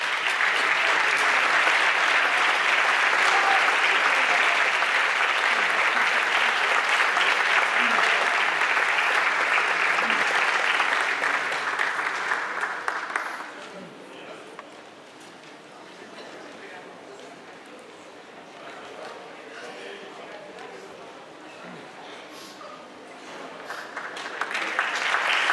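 Loud, sustained audience applause at a conservatory award ceremony, dense clapping for about thirteen seconds, then fading to quieter room sound before clapping swells again near the end.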